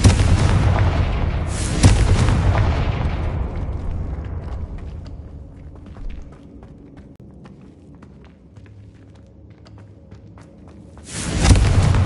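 Confringo blasting-spell explosions in the video game Hogwarts Legacy: loud booming blasts open the scene, then comes a quieter stretch with light footsteps, and a fresh burst of explosion arrives near the end.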